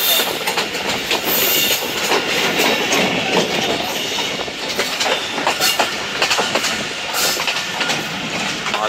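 A passenger train rolls into Golra Sharif station in Pakistan, a steady, loud wash of rumble and rhythmic clickety-clack from the rail cars, with faint wheel squeal, continuous and close throughout.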